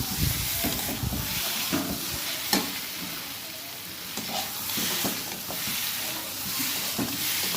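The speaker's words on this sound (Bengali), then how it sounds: "আলুগুলো ভালো করে মশলার সাথে মেখে মাখিয়ে নিতে হবে" Fried potatoes being stirred into spice masala in a pan, giving steady sizzling and hissing with scraping stir strokes throughout, outdoors with some wind noise.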